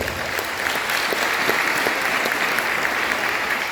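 Loud, dense applause from a gathered crowd at a council of elders meeting in Caxhuacan, Puebla, continuous and even throughout with no break.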